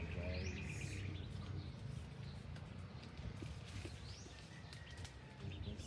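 Chickens at a hen's nest give faint scattered chirps and clucks over a low background rumble, heard from some distance.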